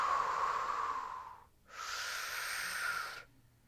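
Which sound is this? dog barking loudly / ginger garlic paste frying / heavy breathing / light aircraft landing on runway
heavy breathing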